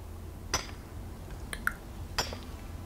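A pickaxe strikes ore in the Skyrim video game, giving a few separate sharp metallic clinks spaced irregularly over a quiet background.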